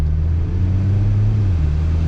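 A car's exhaust drones while driving, a steady low rumbling hum with a slight pitch shift, continuous and close.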